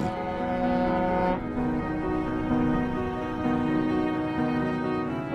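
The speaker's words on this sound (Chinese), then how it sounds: "从内地驶来的轮船已经响起靠岸的鸣笛" A deep ship's horn blares in two long, loud sustained blasts as the ship docks, the second following a brief pause, resonant and tonal.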